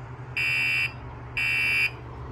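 An alarm wired to a custom electrical control box sounds in two identical shrill buzzer bursts of about half a second each, separated by a short gap, loud and close over a low background hum.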